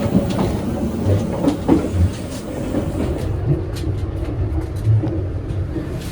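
Heard from inside a moving KA Majapahit economy-class train, a steady loud rumble runs on rails with occasional faint clacks over the track joints and no talking.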